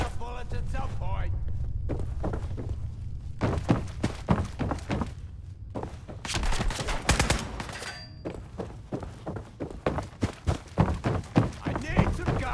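Rapid bursts of gunfire from Fallout 4 combat, sharp repeated shots and volleys in clusters with heavy thuds, loud and close throughout, mixed with game noise.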